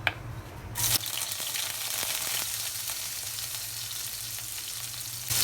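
Chopped, deseeded medium green chili tossed into hot oil in a pan, a loud, steady sizzle that flares up after a brief quiet start and crackles continuously, close up with no voices.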